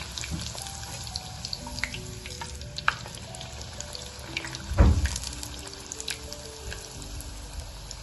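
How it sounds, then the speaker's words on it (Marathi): Methi masala puri frying in hot oil over a high gas flame: a steady close sizzle with a brief louder bubbling burst midway. "तेल आपलं छान गरम झालेलं आहे आपण आता पुरी ते सोडून घेऊया तेलामध्ये"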